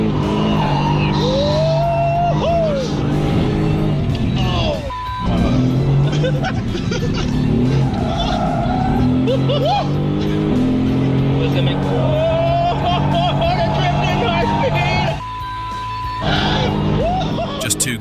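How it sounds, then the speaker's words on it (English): A sports car with traction control switched off skids on track with loud engine revving and tire squeal, while excited voices and background chatter run under it. "Look what happens when you give Lewis a sports car and he turns off traction control."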